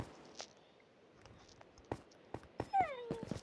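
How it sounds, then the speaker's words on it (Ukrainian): A dog whimpers in Minecraft during a hardcore survival game, with short faint high whines and a few sliding yips near the end over quiet game ambience and scattered clicks. "Так, собака."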